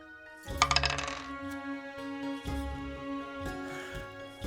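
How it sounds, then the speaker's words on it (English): Dice rattle and clatter across a table during a Blades in the Dark tabletop role-playing session: a quick burst of hard clicks that settles within a second, over a steady background drone. "I'm going to roll this dice right here."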